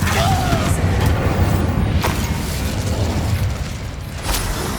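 A Confringo blasting curse explodes in the Hogwarts Legacy video game, a loud, sustained roar of rumbling, crackling noise with a few sharper bursts that stays dense and close throughout.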